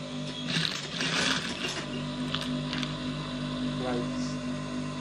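A sewing machine top-stitches around a garment placket, its steady mechanical hum running under a person's talking, with a few brief clicks and a short whirring run later on.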